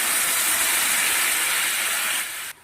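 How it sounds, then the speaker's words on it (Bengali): Curry liquid poured into a hot pan of fried vegetable stems and potatoes gives a loud, continuous steamy hiss close up. It holds steady for over two seconds, then drops off abruptly at the end. "এবার ঝুলটা দিয়ে দিচ্ছি"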